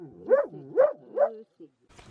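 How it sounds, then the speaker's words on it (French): Dog in Morocco giving three rhythmic, tonal, whining barks close by, followed by a short yip and faint rustling. "qui se met à aboyer de temps en temps"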